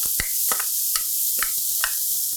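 Finely chopped red onion stirred in a pan as it softens, with a steady low sizzle under a handful of distinct scraping and stirring clicks spaced about half a second apart, close and alone without talk.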